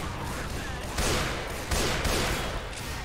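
Gunfire in Left 4 Dead crackles in dense, sustained bursts with louder surges, a continuous rattle of shots filling the scene.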